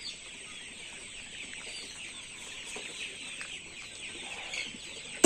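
Chickens cluck softly at a poultry farm, a faint, dense chorus of birds mixed with high hissing farm ambience, steady throughout with a sudden thump at the very end.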